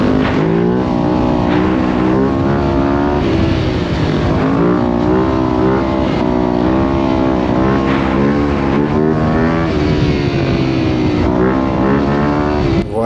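A 250cc motorcycle held in a wheelie on a city street, its loud engine revving hard and holding high rpm, the pitch rising and dipping with throttle changes and brief cuts throughout, close and continuous with no talk.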